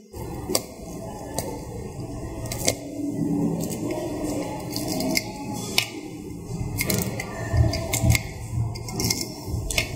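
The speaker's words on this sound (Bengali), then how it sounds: "এবার পেঁয়াজটা একটু কুটে নেবো" An onion is chopped on a board at home, giving a string of sharp, irregular knife taps and crunchy cuts at close range, with faint background rustle and no talk.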